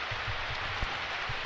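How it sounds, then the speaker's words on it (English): Steady rain hiss during an American football video game match between the Pittsburgh Steelers and an opponent, a constant broadband wash with a faint thump partway through. "In the rain, wind in his face."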